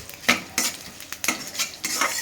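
Sweet corn dhokla pieces are stirred into a ghee tempering with sesame seeds and curry leaves, giving soft scraping strokes at an irregular rhythm over a faint sizzle, close and with no talking.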